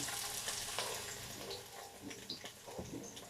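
Garlic sizzling in a hot pan, a steady bright frying hiss with occasional stirring scrapes, fairly quiet and close, no talking.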